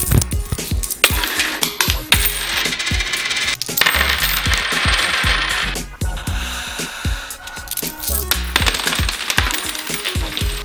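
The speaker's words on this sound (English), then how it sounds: "You scatter coins around the house, on tabletops, and inside drawers." Coins scattered around a house for a Filipino New Year's Eve custom clink and jingle in repeated bright bursts as handfuls drop onto tabletops and into drawers, close and loud with short pauses between drops.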